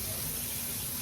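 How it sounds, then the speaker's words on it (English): Hot tap water running over cooked noodles in a sink, a brief steady gush of splashing flow, close and fairly loud. "rinse them off in hot water to keep, you know, the temperature warm on the noodles"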